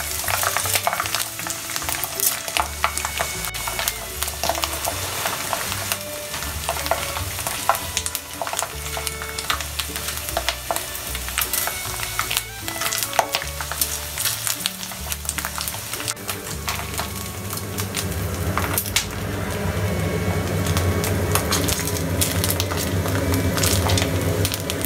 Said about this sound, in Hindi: साबूदाना हो चुका है पूरा फ्राई, चिप्स भी हो गए हैं